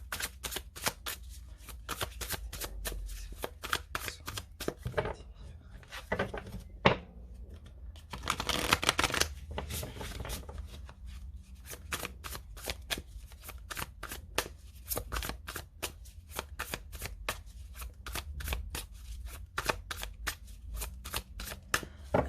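Tarot cards are shuffled at length, close and quiet, a long series of sharp papery flicks and soft riffles in irregular bursts, with brief pauses and no speech.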